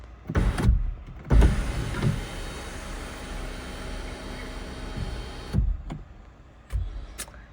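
A new car's electric sunroof motor whirs open in a smooth, steady hum lasting about four seconds, framed by a few soft thumps and handling noises before and after.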